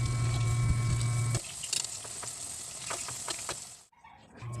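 Kamote (sweet potato) pieces sizzling in hot oil in a pan, a steady close frying hiss that drops in level partway through, with light clinks and scrapes as the pieces are moved and no talking.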